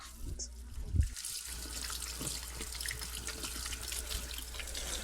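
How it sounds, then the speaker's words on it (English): Running water from a kitchen sink tap as hands are washed after handling meat, a steady close rush with light splashing throughout and no talk. "Now that we handled meat, we gotta wash our hands."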